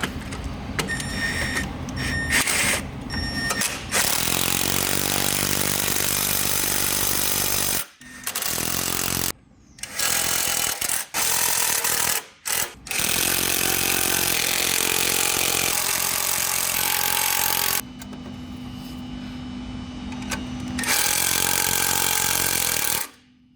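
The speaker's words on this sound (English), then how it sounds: "using our large self-threading screws, we are going to fasten the plate to the chassis using a 30mm Torx" A power driver running a 30mm Torx bit into large self-threading screws, fastening a steel plate to a snowmobile chassis for an intercooler install; repeated loud, close whirring bursts of several seconds each, broken by short pauses.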